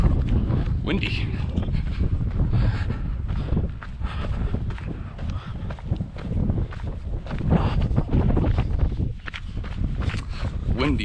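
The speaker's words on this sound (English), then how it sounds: "Windy, but luckily it's not kicking up any of this dust" Gusty wind buffets the microphone in rough, low bursts at Bryce Canyon during a 50-mile race, with a person talking intermittently and footsteps underneath.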